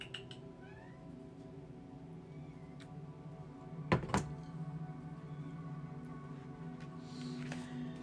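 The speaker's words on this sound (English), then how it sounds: "Jasper, kitty, kitty, kitty." A cat meows in a quiet indoor space, with long drawn calls over a low steady hum and a brief sharp knock midway.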